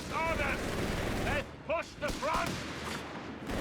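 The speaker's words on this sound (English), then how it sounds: "Got a quick sniper shot there" A sniper or marksman rifle shot cracks in a Company of Heroes 3 battle between German and British forces, amid rumbling artillery and gunfire, with brief voice fragments.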